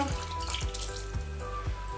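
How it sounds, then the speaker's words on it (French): White wine streams steadily into a saucepan, a continuous close pour with faint metallic ringing and a few soft knocks. "vous prenez votre vin blanc, vous le mettez dans votre casserole"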